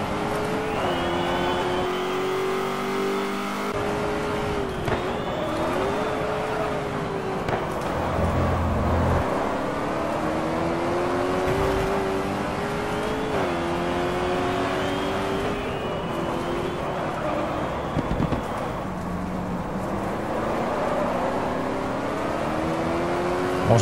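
Ford Mustang race car engine in the GT Legends racing game at Lydden, chased by a pack of Minis, revving steadily with repeated rising and falling gear-change sweeps, loud and continuous throughout.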